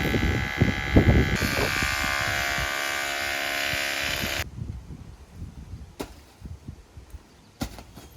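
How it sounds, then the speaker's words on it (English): A power drill bores holes into a house chimney, a steady high buzzing whine for about four seconds that cuts off abruptly, followed by quieter scattered knocks and clatter of the work. "what he's doing right now is he's drilling some holes and putting some rods in"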